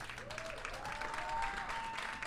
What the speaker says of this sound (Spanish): Un fuerte aplauso, por favor, a Marisol Solís.